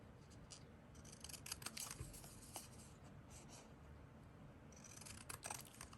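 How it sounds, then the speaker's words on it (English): Scissors snipping the edge off paper at a desk while making faux journal stamps, a quiet close run of small repeated cuts and rustles with no talking. "I'm just cutting the little bit of the edge off and making a good mess on my desk"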